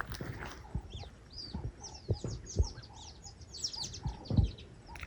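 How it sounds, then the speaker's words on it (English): Chirps and twittering of several birds in a big tree in an African village come from a short distance, with occasional louder thumps and clucks nearby. "We have some birds in that big tree."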